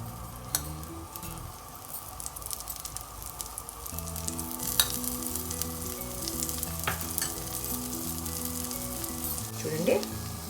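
Pesarattu, a green gram crepe, sizzles on a hot pan as oil is added, a steady close frying hiss with occasional scrapes and stirring sounds and no talking.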